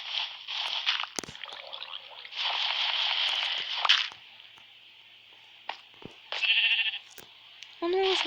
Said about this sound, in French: Oh non, j'entends un mouton.